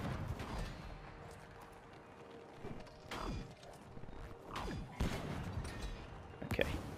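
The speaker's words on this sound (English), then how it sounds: "Oh shit, these do explode" Explosions go off in the co-op video game It Takes Two, several sharp bursts and cracks scattered over a few seconds amid game clatter, with faint talk in the background.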